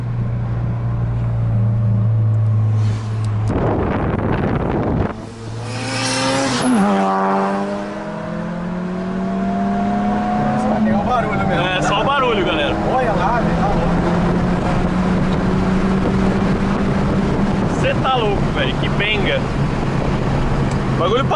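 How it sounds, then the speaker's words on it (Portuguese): A tuned Honda Civic VTi turbo runs at speed, its engine note rising and falling as it passes close by, loud and sustained over road noise. "Eu quero ir na frente dele, galera, pra filmar ele passando por nós."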